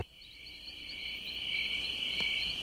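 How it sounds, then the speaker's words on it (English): Insects chirp in a continuous, cricket-like trill, loud and steady, with one brief click partway through and no voices. "Hear that? Insects are everywhere."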